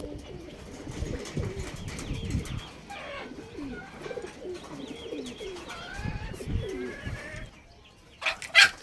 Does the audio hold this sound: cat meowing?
no